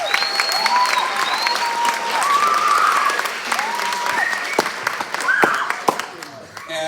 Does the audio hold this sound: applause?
yes